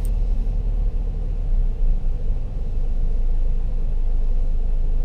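A car drives slowly alongside another parked vehicle while lining up for a reverse parallel park, giving a steady low engine and road rumble, close and continuous, with no talk.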